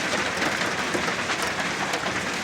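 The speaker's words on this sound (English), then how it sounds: "Yeah, we're getting hail again. Pretty big, but not as big as last year." Hail falling outdoors at a high-elevation garden homestead, a dense, continuous rattling patter of many hard stones striking surfaces, loud and steady throughout with no talking.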